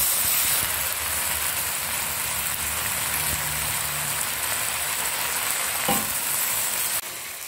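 Water spinach (kangkung) hitting a hot pan and starting to fry, a steady loud broadband sizzle that runs throughout, with a brief stir or clatter near the end and no voices.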